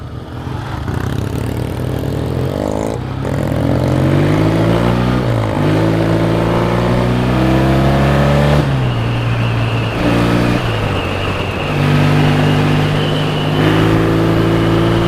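A classic British motorcycle engine revs hard and pulls through rising gears on a run through the English countryside, loud and close, its pitch climbing, dropping at each shift, then climbing again.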